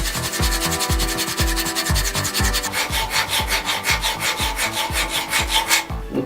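A knife edge drawn repeatedly across 200 grit stones on a Wicked Edge GO sharpener, a steady rhythmic gritty rasp of about a dozen close strokes, speeding up toward the end, with no talking.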